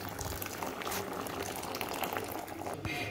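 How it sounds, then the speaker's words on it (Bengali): Heated water poured into mixed dal for a Bengali tadka dal, a continuous close splashing and gurgling pour, no voices. "এই জলটা পরিমাণ মতো আমি একটু জল দিয়ে দেবো"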